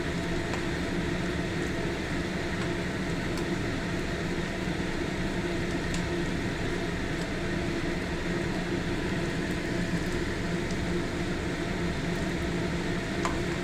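Chhana bora, homemade cottage cheese fritters, frying in hot oil, giving a steady, close sizzle with a faint crackle that continues unbroken and without talk.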